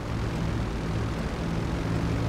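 A Titan airplane in GTA 5 taking off, a dense, steady propeller and engine roar filling the whole stretch at constant loudness, no voices present.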